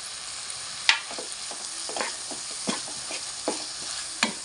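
A cluster beans curry is stirred in a pan. There is a soft, steady sizzle with a series of spoon scrapes and light clinks against the pan, about one every half second.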